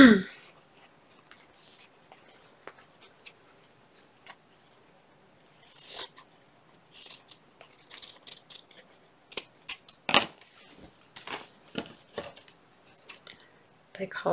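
Scissors snip through paper, cutting out a shape at a craft table: sparse, quiet crisp cuts and rustles spread across the stretch, close by and soft.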